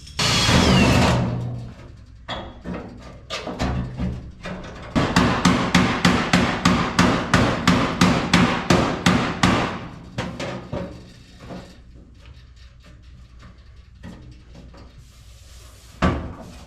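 A hammer pounds a sheet-metal floor pan into place on a 1978 Chevrolet K5 Blazer. Sharp metallic blows ring out close by, first a few scattered hits, then a rapid, even run of about a dozen strikes, then more sporadic taps.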